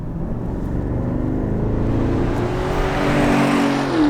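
A 2020 BMW X6 M50i's V8 engine and exhaust drone steadily and fairly loud from inside the cabin, building slightly toward the end with no one talking.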